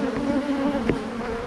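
Bees buzzing close by, a dense steady drone with individual insects passing near, continuous throughout with no talking.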